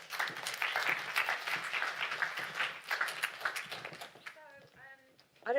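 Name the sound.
audience applause for panelists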